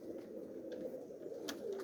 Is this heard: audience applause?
no